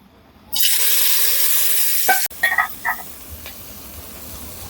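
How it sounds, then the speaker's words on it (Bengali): Prawns dropped into hot oil in a home kitchen set up a loud, steady close-up sizzle, which cuts off briefly and then gives way to softer crackling with a few sharp spits. "তেলটা গরম হয়ে গেছে, এর মধ্যে আমি চিংড়ি মাছটা দিয়ে দেব।"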